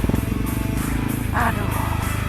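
Yamaha WR155R dual-sport motorcycle riding over a rocky, broken dirt road outdoors, its engine droning steadily and close throughout with continuous rumble and rattle, no pauses.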